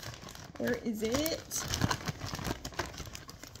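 Plastic shopping bag from a beauty store haul crinkles and rustles close to the microphone in bursts, with someone speaking briefly over the noise.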